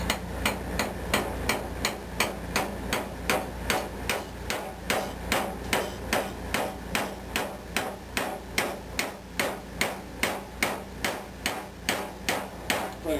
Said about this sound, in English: I may have to hammer this thing through